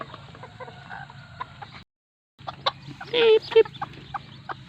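Bantam chickens cluck near and fairly loud in a backyard coop, with a few sharp bursts rising over a steady low rumble, briefly broken by a pause of silence.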